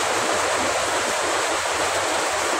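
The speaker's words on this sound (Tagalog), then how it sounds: "Yan, napakalakas ng ulan dito sa amin, guys." Heavy rain pours down steadily, a dense, loud, unbroken hiss of water with a low rumble underneath, close by and with no voices.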